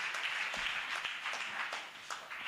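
A church congregation applauds in praise during worship, with dense, continuous clapping in waves that sound moderately distant.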